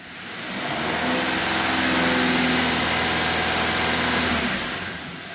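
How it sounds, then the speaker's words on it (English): A car engine is revved in one long, loud push that swells quickly, holds high, then eases back down, with no talk over it. "Now we'll rev it up."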